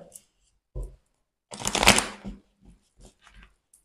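Tarot cards handled close up: a short riffle, then a fuller shuffling burst of rustling card slaps, followed by a few soft taps as cards are drawn.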